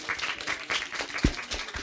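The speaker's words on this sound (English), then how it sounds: "Can we give her a round of applause?" Audience applause at a group report-back session, a moderate patter of clapping with an uneven rhythm and one sharper thump partway through.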